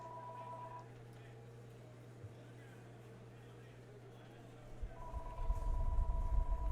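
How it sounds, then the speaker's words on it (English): A telephone rings during a roulette recording session, a steady electronic ring tone at the start and again near the end, with low background hum and rising noise. "Always get phone calls when we're recording here."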